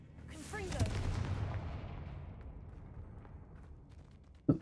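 A Confringo explosive spell goes off in the video game Hogwarts Legacy, with a booming blast followed by a long rumbling decay and a sharp thud near the end.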